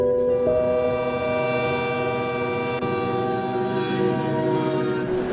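A train rumbles past with its horn blaring in a long, steady chord, loud and close over the rolling rail noise throughout, used as an effect in a spoken horror story.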